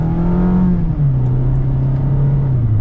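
A 2022 Mazda MX-5 Miata RF Grand Touring accelerates in sport and manual mode with paddle shifting, its engine a steady loud drone that rises, dips at an upshift, then climbs again.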